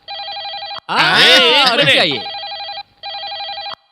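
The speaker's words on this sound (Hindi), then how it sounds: "ये फोन आपके लिए नहीं है? मेरा फोन मेरे लिए नहीं तो किसके लिए बजेगा?" A telephone bell rings loudly in sharp repeated bursts, broken by a stretch of excited speech, then resumes for two more rings with short gaps between them.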